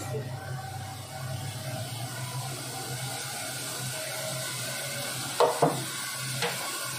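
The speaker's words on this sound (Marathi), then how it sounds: "चांगलं व्यवस्थित मिक्स करून घ्यायचं आणि भाजायचं व्यवस्थित." Masala roasting in a pan with a splash of hot water gives a steady, close sizzle, broken near the end by a few sharp clinks and scrapes of the spoon stirring against the pan.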